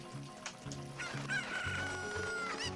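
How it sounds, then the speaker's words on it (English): Cartoonish chicken clucks and a crowing call from the video game The Legend of Zelda: Ocarina of Time repeat in quick bursts, loud and close, with no talking. "Chicken!"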